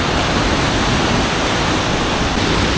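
River water rushes near cliffs in a dense, constant roar of flow that fills the whole clip and stays loud and unchanging throughout.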